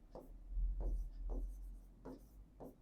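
Chalk or marker strokes writing a math equation on a classroom board, five short scratchy strokes in an irregular rhythm, close and fairly quiet, with no speech.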